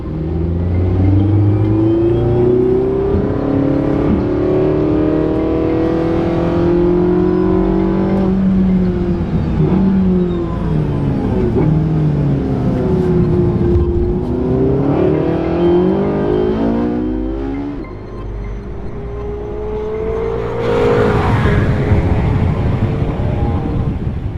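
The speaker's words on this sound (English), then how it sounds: "Porsche factory driver Patrick Long is behind the wheel of a 918 Spider for the first time." A Porsche 918 Spider hypercar at speed on the Austin, Texas Formula 1 circuit, its engine loud and close, rising and falling through gear changes and revs, with a sharp burst near the end and no talking.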